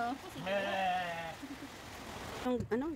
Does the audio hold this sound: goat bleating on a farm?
yes